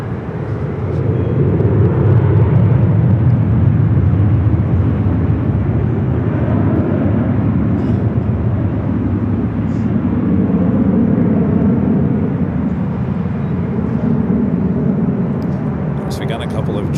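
Boeing 787 Dreamliner airliners at Los Angeles International Airport, a steady loud broadband jet roar filling the whole stretch, with engine rumble holding constant and no distinct voices over it.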